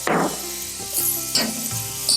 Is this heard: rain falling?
no